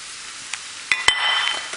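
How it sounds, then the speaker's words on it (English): Steamed broccoli and cauliflower tossed quickly with oyster sauce, a couple of soft clinks followed by a brief wet stirring rustle, close and fairly quiet with no speech. "I'm just going to mix it up and just toss it really quickly"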